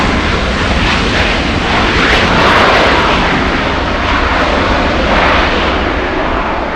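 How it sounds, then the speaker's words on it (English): A Southwest Airlines jet comes in to land at Los Angeles LAX, its engines roaring loud and close in a steady broadband rush that swells gently and holds throughout, with no voices. "Southwest Airlines coming in."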